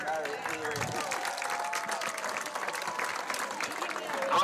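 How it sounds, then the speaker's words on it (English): A football stadium crowd at a homecoming royalty introduction applauds in a continuous wash of distant clapping and cheering, with a voice briefly sounding through it. "Please, a round of applause for our freshman attendants, Audra Craig and Brody Flynn"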